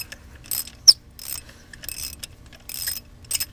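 A ratchet on an extension clicks while loosening spark plugs on a Scion xB, with short bursts of close, crisp ratcheting separated by pauses and no talk.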